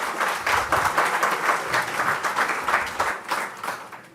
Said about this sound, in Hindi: भाई ताली बजाओ तो जोरदार बजा दो